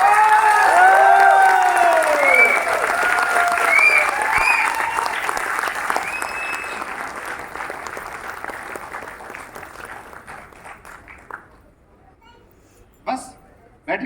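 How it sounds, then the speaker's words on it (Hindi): A standing audience at an annual company event in Delhi claps loudly to welcome a guest, with cheers and shouts over the applause at first, then clapping thins and fades out near the end. "मैं चाहूंगा कि एक बार खड़े होकर जोरदार तालियों से इनका स्वागत किया"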